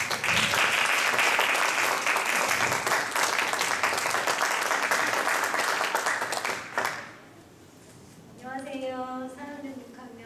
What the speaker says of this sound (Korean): 큰 박수로 이렇게 열심히 감사하겠습니다